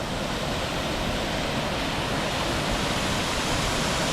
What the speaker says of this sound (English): this waterfall's loud